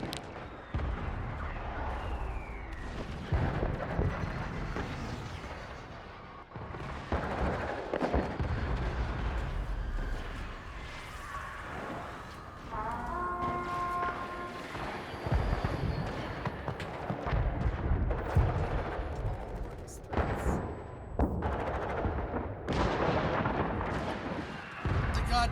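Dense, continuous gunfire and booming blasts roar without letup in the video game Warframe, a constant loud barrage with a few brief electronic tones mixed in.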